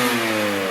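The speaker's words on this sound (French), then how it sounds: "Ça me régale juste d'entendre le son de cette moto" A motorcycle engine revs steadily and loudly up close, holding a rough, even drone for under a second with no voices.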